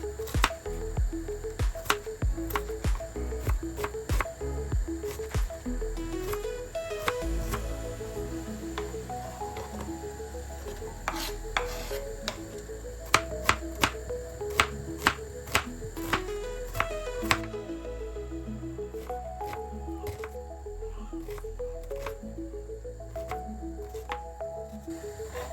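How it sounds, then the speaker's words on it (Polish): Onion being chopped into fine dice with a knife on a board, a long run of quick, crisp, fairly regular taps, close and moderate in level, with no speech. "Cebulę kroimy w drobną kostkę."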